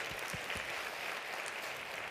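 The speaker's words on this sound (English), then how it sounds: "Just clap, if that's you." Scattered, fairly faint clapping from a conference audience at a sales growth event, with a few distinct claps at the start thinning into a soft wash.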